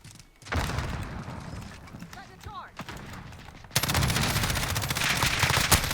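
Sustained automatic gunfire in the video game Call of Duty: Modern Warfare, first a loud rattling stream, then a brief pause with scattered shots, then a dense relentless burst; a voice talks along with it.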